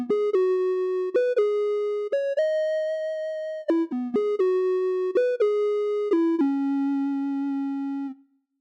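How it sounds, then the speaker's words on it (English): A soft, hollow triangle-wave synthesizer tone plays a short stepped melody of sustained notes, clean and smooth with few overtones, alone without any voice. "So here's the triangle wave."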